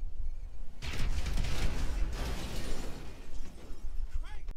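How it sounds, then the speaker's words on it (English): Sticky bombs detonating in GTA Online, a sudden loud blast followed by shattering debris and a second burst, rumbling and crackling for several seconds with a faint whoosh near the end. "1, 2, 3 sticky bombs."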